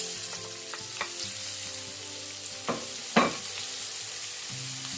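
White onion frying in a curry pan with potato for a coconut curry salmon dish, a soft steady sizzle broken by a few sharp scrapes and clinks of a utensil against the pan.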